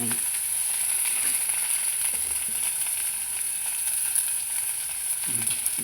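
Amaranth leaves frying in a pan for a yogurt chutney: a steady, close hiss and sizzle with faint crackles running throughout.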